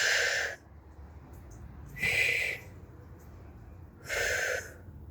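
Three forceful exhalations during an abdominal workout, evenly spaced about two seconds apart, each a short breathy rush of air heard close up over a quiet background.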